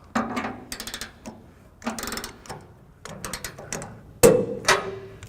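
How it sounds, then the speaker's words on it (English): A socket ratchet tightens the bolts on a trailer hitch on a 1994 Chevrolet truck, with repeated bursts of rapid clicking close by, broken by short pauses and a final sharp metallic clunk. "we'll go ahead and finish torquing down the rest of the bolts."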